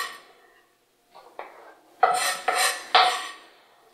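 A sharp knife scrapes chopped onion across a cutting board in a kitchen: faint small taps, then three loud, crisp scraping strokes in a row, close up, with no talking.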